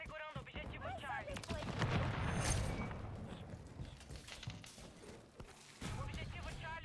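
Gunfire in Call of Duty: Modern Warfare III, rapid loud bursts and booming shots crowding together, with voices talking over the battle.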